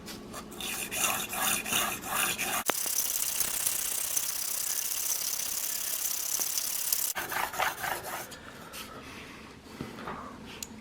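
A Sevr broadhead is stroked against an 800 grit stone in a rhythmic rasping rub, with a steady grinding stretch in the middle between quicker back-and-forth passes, close and fairly quiet.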